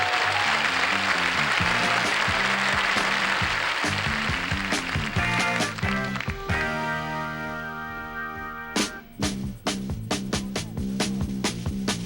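A 1973 late-night TV studio audience applauds a band, the crowd's broad clapping filling the first half before a band's music takes over, with strong rhythmic hits.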